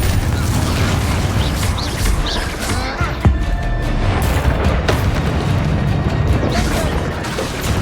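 Spell blasts from Hogwarts Legacy gameplay boom and crash one after another over a dense, noisy game soundtrack, with sharp bursts and rumbling impacts throughout.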